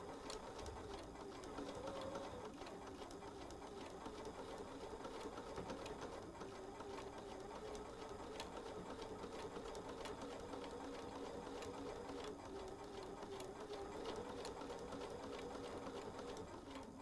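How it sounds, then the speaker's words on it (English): A sewing machine stitches a quilted stained-glass placemat, running steadily and continuously at close range for the whole stretch with no talk over it. "And now I'm going to sew again."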